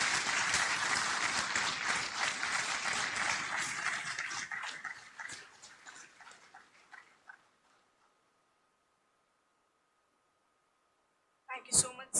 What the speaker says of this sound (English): a massive round of applause to your parents and your professors